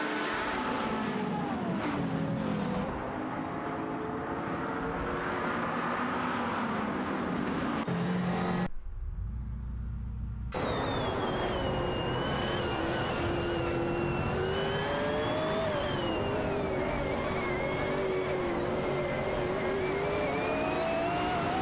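Racing car engines in an AI-driven racing game drone and whine continuously with rising and falling pitch, briefly cutting out midway before resuming at full level.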